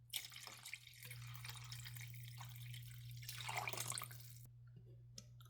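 Water pours from a tap into a soup pot in a home kitchen, a continuous splashing stream that swells and eases before stopping abruptly, over a low steady hum.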